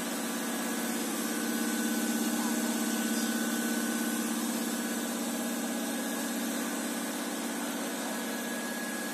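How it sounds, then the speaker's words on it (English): CP3 common rail high-pressure pump running on a CR815 test bench, producing a steady mechanical hum and whine with fine vibration, constant in level for about nine seconds. "High pressure oil supply pump."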